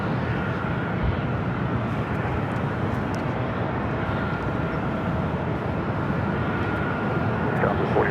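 A United Airlines Boeing 737 MAX 8 arriving from SFO at LAX roars in as a broad, steady jet rumble with a faint whine on top, loud and sustained throughout with no talking.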